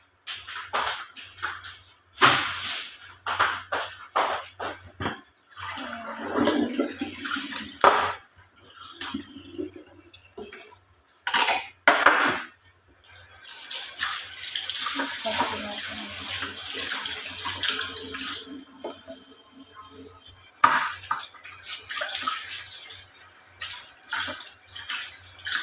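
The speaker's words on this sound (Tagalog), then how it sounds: "Tapos, hugasan natin maigi ang chicken" Raw chicken is rinsed under a running tap in a kitchen sink, with splashing water coming in uneven bursts and pauses and a few light clinks in between, close and fairly soft.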